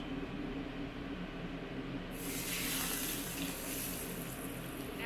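Heated olive oil is poured over a steamed sea bass in a home kitchen, and a bright, hissing sizzle breaks out partway through over a quiet background, close and fairly soft.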